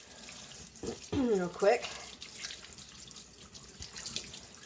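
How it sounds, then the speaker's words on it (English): Running water from a sink tap splashes over hands being rinsed, a steady moderate wash with a brief voice speaking over it midway. "we'll rinse my hands off"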